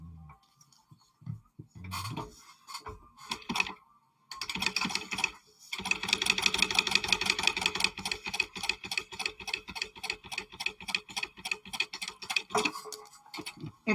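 A sewing machine top stitches along a zipper edge on a Kandou Patterns Mini Traveler pouch. After a few short starts it settles into a steady, rapid run of close mechanical clicks with no voices.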